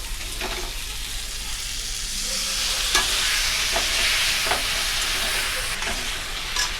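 Pointed gourd sizzling in a pan with spice paste while being stirred, a dense continuous sizzle with periodic scraping strokes of the spatula, close and fairly loud, no talking.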